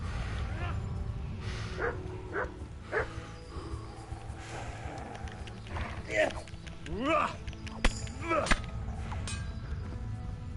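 In the video game Kingdom Come: Deliverance, a dog barks, yelps and whimpers in short repeated bursts during a fight, mixed with clashing game noise while a person talks over it.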